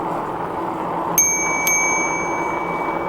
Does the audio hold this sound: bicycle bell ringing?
yes